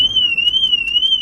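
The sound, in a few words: car alarm going off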